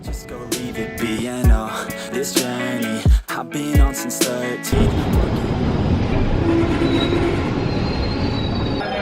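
A long-distance express train pulls into Balharshah junction in India, the near, loud rumble of wheels and carriages giving way to a steady broadband roar with faint squealing as it rolls in.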